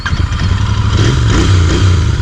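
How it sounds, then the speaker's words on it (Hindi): A Royal Enfield Continental GT 650 motorcycle engine runs loud and close, a low rumbling idle with a slight rev, steady throughout with no talking. "Let's just switch on the bike and move ahead."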